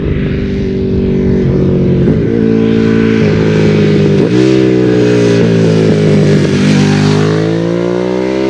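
A Ducati Streetfighter motorcycle with a loud exhaust roars close by, revving hard with stepped gear changes and a rising, rasping engine note that stays loud throughout.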